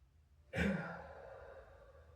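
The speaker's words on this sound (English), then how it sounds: "We'll just take a few deep breaths." One deep, soft exhale during a post-workout yoga stretch in child's pose, forehead to the mat, rising suddenly and trailing off quietly in a still room.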